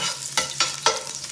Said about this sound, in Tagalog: Igisa muna bawang tayo guys